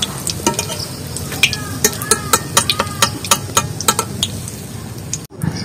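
Raw banana kebabs fry in hot oil, with loud bubbling crackle and a run of sharp, rapid spatters and clinks as the pieces are stirred and lifted out, close and prominent.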